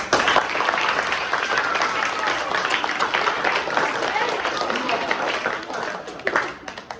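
Applause from a room of young students celebrating a right answer at a banking awareness session: dense, steady clapping that fills the whole stretch, with a few louder claps near the end.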